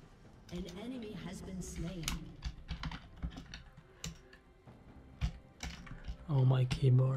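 Computer keyboard keys clatter in quick irregular bursts during a League of Legends game, with someone talking over the typing and in-game sound effects.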